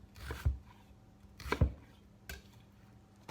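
A knife cuts through onions on a chopping board with three distinct thuds spaced about a second apart, close and fairly quiet, with nothing else heard in between.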